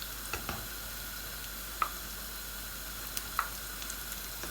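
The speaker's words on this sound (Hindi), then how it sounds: "बिल्कुल हमने उसी तरह फ्राई करनी जैसे हम पकोड़े फ्राई करते हैं।" Moong dal mangochi frying in hot oil, pakora-style, with a steady soft sizzle and a few faint pops and bubbles, close and alone without any voice.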